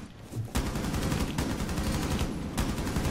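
Rapid gunfire in Rainbow Six Siege, loud dense bursts of shots running nearly continuously, with a sharp louder shot near the start and another near the end.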